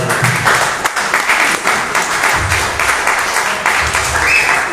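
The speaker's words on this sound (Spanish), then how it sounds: "Un fuerte aplauso a la palabra." A church congregation breaks into a strong round of applause after a scripture reading, dense steady clapping filling the room with a few dips, loud and close.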